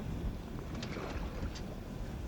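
Wind rushes steadily past a racing sailboat in light air, a soft even roar of breeze over the microphone with faint water wash underneath and no speech.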